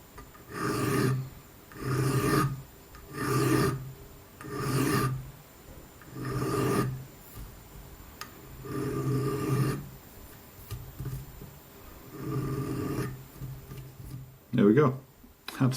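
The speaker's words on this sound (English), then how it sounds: "I use 1 or 2 fingers to rest my file up against it, like this, as a filing guide" A hand file rasps along an angled edge in about nine steady, evenly spaced strokes, close and clear, followed by a few shorter, more irregular passes.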